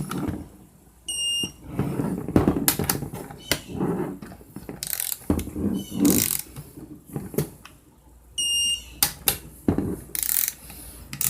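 Torque wrench ratcheting in quick bursts of sharp clicks while tightening transmission valve body bolts, close up, with pauses between strokes and a few light metallic taps.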